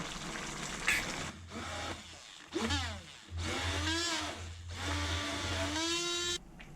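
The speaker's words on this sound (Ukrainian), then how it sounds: "Та проб'ю це все блендером." A hand blender purées pumpkin cream soup with meatball broth, giving a steady low motor whir that runs almost throughout, with a voice talking over it.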